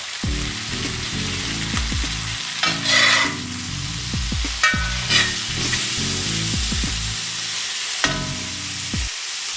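Celery fries in olive oil in a pan during a beef and broccoli cook, with a constant hiss, bursts of crackling and scattered utensil knocks, close and loud with no talk.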